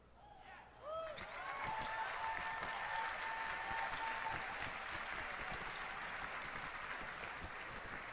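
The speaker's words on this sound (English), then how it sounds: "I hear people cheering" Audience at a gaming convention panel bursts into loud, sustained cheering and applause that swells after a second and continues steadily, with whoops over the clapping.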